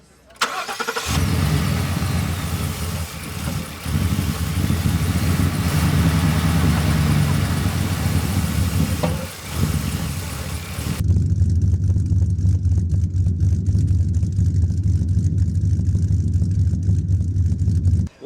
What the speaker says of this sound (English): In just a second, we're going to fire it up for you.